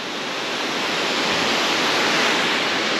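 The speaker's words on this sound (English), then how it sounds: "Quite a spectacular waterfall." Hareshaw Linn waterfall in Northumberland roars as a dense, steady rush of falling water, loud and close, swelling slightly over the clip with no voices.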